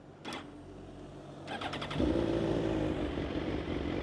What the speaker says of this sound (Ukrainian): Запустимо двигун. Так, це з Сузуки, він запускається зі щепленням.